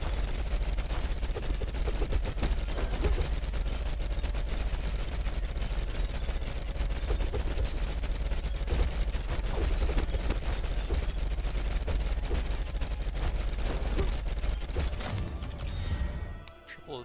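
Projectile spells firing in the video game Tower of Babel: Survivors of Chaos, a dense, continuous rattle of rapid shots and impacts that fades out at the end.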